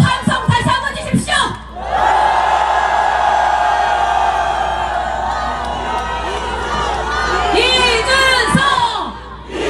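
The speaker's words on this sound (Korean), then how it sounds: "여러분, 큰 함성 다시 한번 주십시오." A large political rally crowd in Seoul cheers and shouts loudly and continuously, a sustained roar with rising whoops, after a short burst of chanting at the start.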